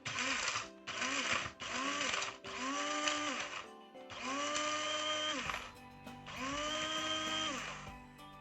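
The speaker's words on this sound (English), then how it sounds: "it's the coffee grinder I use for my spices" Electric coffee grinder used for grinding spices runs in six loud, whirring bursts separated by short pauses, each burst rising in pitch as it spins up, close and without talk.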